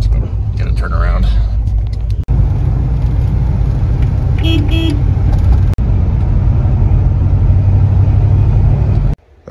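A 1961 Oldsmobile Dynamic 88 is driven on the road with a steady, loud low engine rumble and interior road noise, a brief higher tone partway through, and a few abrupt clicks.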